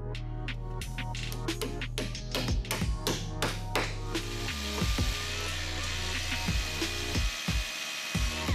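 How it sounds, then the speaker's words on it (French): Hammer-drive anchors are struck in to fix concrete formwork, a rapid series of sharp close taps and knocks in quick succession, then sparser blows toward the end, with no talking. "Nous fixons le coffrage avec quelques chevilles à frapper,"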